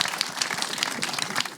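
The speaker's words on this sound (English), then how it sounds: "round of applause for that" A conference audience at an apprenticeship branding event breaks into a short burst of lively, close applause, with dense overlapping claps.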